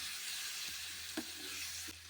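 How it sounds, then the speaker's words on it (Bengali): Two chopped onions fry over medium flame in a pan for brinjal masala, giving a steady soft sizzle with a few light scraping stirs, heard alone with no talk. "দিয়ে মিডিয়াম ফ্লেমে আমি 2 থেকে 3 মিনিট পেঁয়াজগুলো বেশ ভালো করে ভেজে নেব।"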